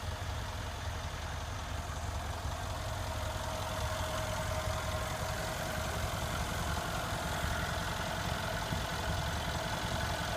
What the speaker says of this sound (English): The 2015 E63 AMG S model comes with a very powerful engine.